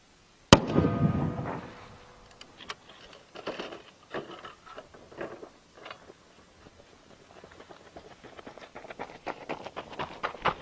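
A .50 cal BMG rifle fired straight up outdoors: one sharp, loud blast near the start followed by a brief echo, then scattered faint rustling and movement sounds.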